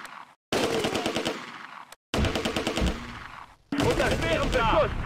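Heavy automatic gunfire in Close Combat: A Bridge Too Far, a World War II strategy game: loud, dense machine-gun bursts with rapid repeated shots, broken by two brief silent gaps.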